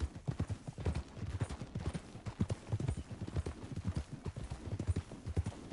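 Horse hooves clip-clop steadily in a PS4 video game, a fast continuous trotting rhythm on a canyon trail, fairly close and moderately loud over a constant outdoor backdrop.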